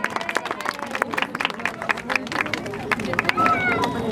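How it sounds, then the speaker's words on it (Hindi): Children's Christmas celebration gathering, with people clapping in scattered, uneven bursts amid a lively, chattering crowd; claps rise and thicken toward the end while voices talk throughout. "सभी लोग ताली तो बजा दो बच्चों के लिए भाई।"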